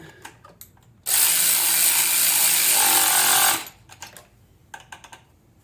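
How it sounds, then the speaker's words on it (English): A small electric ratchet spins down a bolt on the crank angle sensor of a Z31 Nissan 300ZX, one loud close burst of about two and a half seconds, with quiet handling clicks before and after. "And then these little electric ratchets here, nothing for torque. Just send it."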